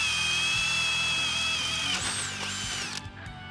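RIDGID Octane 18V half-inch hammer drill boring through wood with Bosch spade bits: a steady, loud motor whine under load, its pitch dipping and rising as the bit bites, then spinning down near the end.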